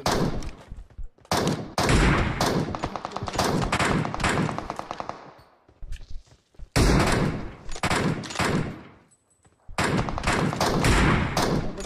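Rapid bursts of automatic gunfire from the battle royale game PUBG, loud and close, arriving in dense volleys with short pauses between them, alone with no talk.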